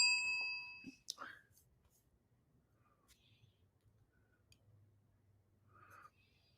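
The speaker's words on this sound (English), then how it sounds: "You get a bell for that." A bright bell ding rings out once as a quick sound effect near the start, with its ringing overtones fading away within about a second, followed by faint clicks and quiet background.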